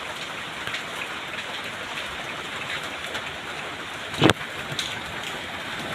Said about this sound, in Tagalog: Medyo umulan, pero mahina lang yung ulan dito sa amin.